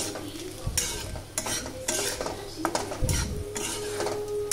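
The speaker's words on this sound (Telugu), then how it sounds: "సో ఆ కలర్ వచ్చేంత వరకు అయితే ఫ్రై చేసుకుందాం" Smashed mutton frying in a pan makes a steady close sizzle broken by repeated heavy scraping and stirring strokes of a metal spatula against the pan, loud and busy throughout, with no talking.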